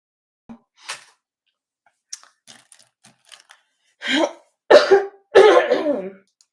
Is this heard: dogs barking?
no